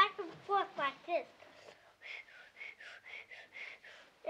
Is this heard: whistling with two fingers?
yes